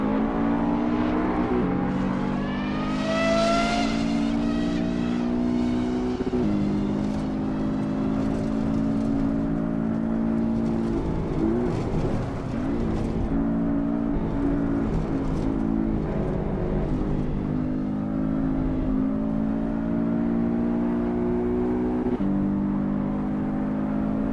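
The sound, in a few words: race car engine revving, video game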